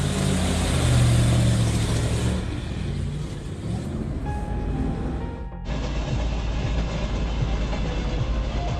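A train rumbles past close by with a loud, steady roar of wheels on rails, a brief drop midway before the noise resumes.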